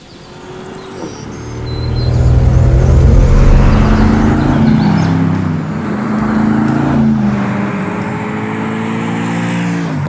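A Mercedes-AMG G63 G-Wagon in sports mode drives with a loud, close engine drone that swells, eases back and holds steady while the revs shift, with no talking.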